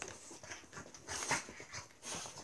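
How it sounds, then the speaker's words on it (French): Dogs whimper softly in a room, with faint, high whines coming in uneven bursts over a hissy background. "Excusez-moi pour mes chiens, comme d'habitude."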